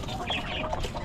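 Backyard chickens cluck softly in a short burst, a few close, muffled calls over faint ambient noise.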